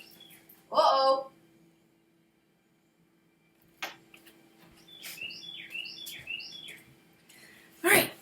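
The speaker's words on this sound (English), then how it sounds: "you may hear bird song" Faint bird chirps come in a short series of high, quick calls amid a quiet room, with a couple of louder nearby noises and brief sounds around them.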